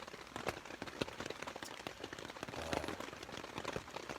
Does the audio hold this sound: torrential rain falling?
yes